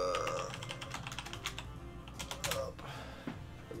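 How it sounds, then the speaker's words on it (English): Computer keyboard typing, a rapid patter of close key clicks in uneven bursts over a faint background hum, with no voices. "Typing is good."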